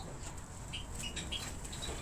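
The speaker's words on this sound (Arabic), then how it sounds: "هذا يمام" Doves shuffle and flap their wings in a bird enclosure, a few soft brief flutters and scrapes over a steady background hiss, fairly close and quiet.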